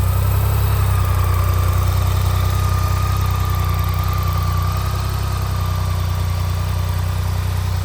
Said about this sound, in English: Call these brick engines. Basically a inline 3.